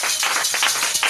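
A church congregation claps in acclamation, a brisk, dense run of overlapping hand claps at close range, steady and loud for a brief moment with no talking.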